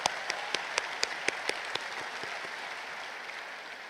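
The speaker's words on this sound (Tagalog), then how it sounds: "Pumalakpak tayo gaya ng pagmamahal sa Poong Nazareno." A church congregation at a Nazareno Traslacion mass in Quiapo Church claps: a few distinct claps open, then swell into a soft, steady applause heard from a distance in a large space.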